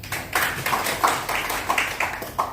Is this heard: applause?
yes